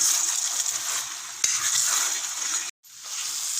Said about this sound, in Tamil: இப்போ மாங்காய் வேகிற வரைக்கும் நல்லா ஹை ஃப்ளேம்லேயே வச்சு நல்லா வேக விடணும்